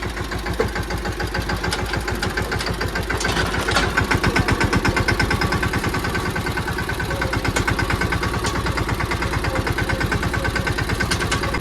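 A tractor working a groundnut field runs at a steady, loud, close chug, its rhythmic engine pulses holding even for the whole stretch with no voices.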